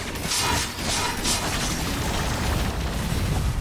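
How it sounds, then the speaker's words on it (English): Explosions in the video game Risk of Rain 2, a dense, continuous run of booming blasts and crackling bursts that carries at steady loudness through the whole stretch, with no talk over it. "that was a lot of explosions"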